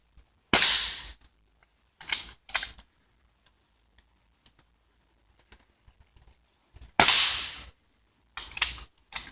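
Shots from a PR900w PCP air rifle at targets: four sharp cracks in two pairs, spaced a few seconds apart, with faint ticks and handling noises between them.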